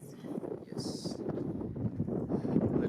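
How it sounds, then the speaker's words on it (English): Gusty wind buffets the microphone on a rocky mountain trail at sunrise, a steady low roaring rush that swells slightly, with a person's voice briefly heard over it. "Windy."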